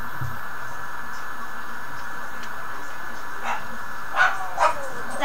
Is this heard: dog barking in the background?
yes